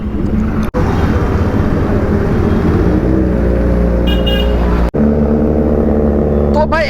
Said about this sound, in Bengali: তো ভাই এত জ্যাম লেগেছে ভাই